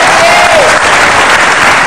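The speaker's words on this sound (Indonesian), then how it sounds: "Tepuk tangan." A studio audience breaks into sustained applause on an Indonesian talk show, a dense, loud wash of clapping filling the whole moment, with a faint voice underneath.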